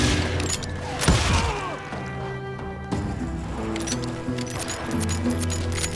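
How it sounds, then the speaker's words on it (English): Gunshots in the Western video game Call of Juarez Gunslinger: a loud close blast followed by scattered clinks and rattles over a low background, no talk. "I heard the shots and I knew I had to move fast."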